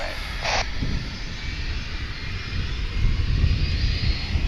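An airplane engine roars steadily at DFW International Airport on a Friday evening, a continuous loud jet rumble with a brief high tone near the start.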